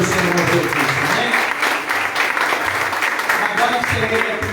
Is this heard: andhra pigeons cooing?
no